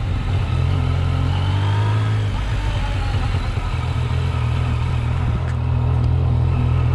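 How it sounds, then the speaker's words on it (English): An engine runs with a steady low drone that shifts as the throttle is worked in abrupt on-off transitions, heard up close with no talk. "See, the throttle is jerky."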